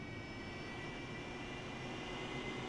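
Aircraft engines running up before takeoff from a forward arming and refuelling point in a flight simulator game, a steady, droning engine roar with a faint high whine, constant and without speech.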